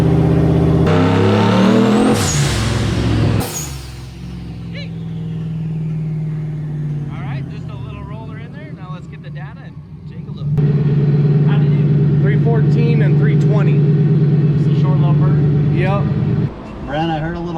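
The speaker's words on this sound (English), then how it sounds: "He's actually really professional at driving on the dyno." A Ford Mustang, newly finished after a six-year build, revs hard on a chassis dyno in a shop, its engine note climbing and falling in loud sustained pulls, with people talking over the noise.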